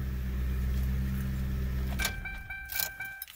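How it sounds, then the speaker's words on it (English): A 2000 Lincoln Town Car with a newly fitted Delphi Technologies fuel pump: a steady idling hum with keys jangling, then clicks and a sharp metallic rattle as the key turns in the ignition, followed by a few brief bright clinks. "Security system is clicking on, turning on the key. Car starts."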